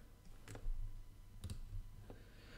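Sharp computer mouse clicks land on a Pay button: three dry, separate clicks spaced about half a second to a second apart, close and quiet in a still room.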